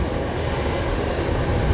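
A Rex airliner takes off from Brisbane Airport, its engines a broad, steady roar heard at a distance with no voices over it.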